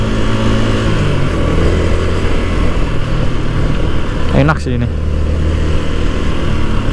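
A Yamaha MX King 150 motorcycle hums along steadily in city riding, its engine drone constant under a rider talking, with a brief whooshing pass partway through.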